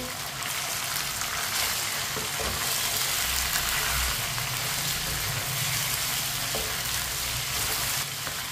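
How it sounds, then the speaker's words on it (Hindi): Chicken pieces being mixed into a frying biryani masala: a dense, loud sizzle runs throughout, with a few soft spoon scrapes and low rumbling from the pan, close by and without speech. "चिकन डालेंगे, अच्छी तरह मिक्स कर लेंगे"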